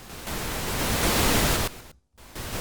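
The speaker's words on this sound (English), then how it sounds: "So that's pink noise." Steady hiss of pink noise from a QSC TouchMix 8 audio mixer, loud and even, briefly cutting to silence before resuming.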